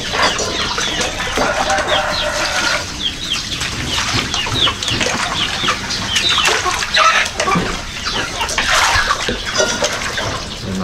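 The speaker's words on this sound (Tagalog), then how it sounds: "Lapit-lapit yung mga manok kayo." Chickens cluck and flap close by in a noisy outdoor yard, with a busy, overlapping chorus of clucks and wing flutters running throughout.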